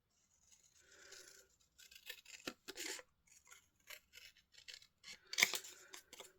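Scissors snip through scrap craft card in a run of short, close cuts with uneven rhythm and a few sharper crunches, heard alone without speech.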